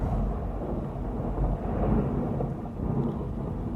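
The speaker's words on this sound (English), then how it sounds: "Thunder and lightning, folks." Deep rolling thunder rumbles on for several seconds, heavy and low, with a faint hiss like rain underneath.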